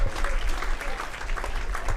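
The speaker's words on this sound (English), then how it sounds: "Warm round of applause from the fans." Fans clap steadily at a youth football match between the under-19 sides of Werder Bremen and Hamburger SV, a dense, even patter of applause from the stands that holds for a couple of seconds.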